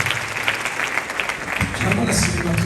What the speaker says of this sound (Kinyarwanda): abaririmbyi bakomera amashyi menshi cyane